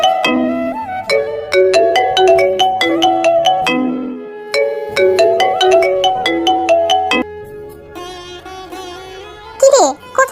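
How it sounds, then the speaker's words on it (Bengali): A melodic phone ringtone for an incoming call plays loud and close in repeating chimed phrases, pausing briefly midway before resuming, with a short rustle near the end. "এমন সময় মিম ফোন দিল"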